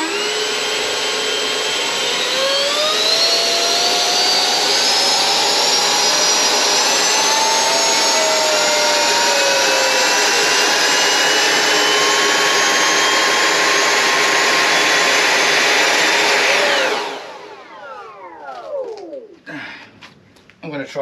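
Electric ducted fans of an RC VTOL Harrier model whine at high pitch in a loud sustained burst with rising tones, then spool down abruptly near the end.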